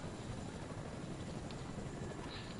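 Helicopter in a PS4 video game, a continuous low rotor drone with steady broadband noise, faint and with no one talking over it.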